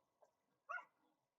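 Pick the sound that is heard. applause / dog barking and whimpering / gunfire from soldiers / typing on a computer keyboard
dog barking and whimpering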